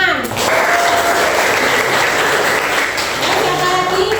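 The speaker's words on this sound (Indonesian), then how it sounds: "terima kasih, tepuk tangan" Loud, steady applause from a classroom of students during a teaching session, a dense wash of clapping that runs throughout.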